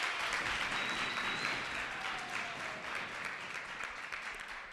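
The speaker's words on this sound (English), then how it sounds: "can we give them another round of applause for coming up?" Another round of applause at a work readiness training day for speakers who came up, a continuous dense crowd clapping, quiet and somewhat distant, gradually tapering toward the end.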